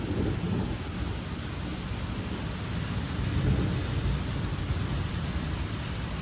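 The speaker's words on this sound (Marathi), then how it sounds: "खूप जोराचा पाऊस चालू आहे" Heavy rain pours steadily in Pune during a storm, a dense continuous roar with low thunder rumbling underneath and swelling briefly near the middle, with no voices over it.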